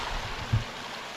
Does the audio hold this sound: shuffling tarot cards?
no